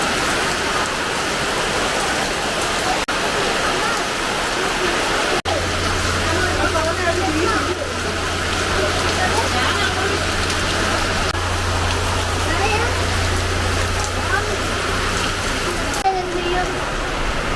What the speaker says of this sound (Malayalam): ഭയങ്കര മഴയാണ്. പെട്ടെന്ന് അങ്ങ് ശക്തി കൂടി മഴയ്ക്ക്.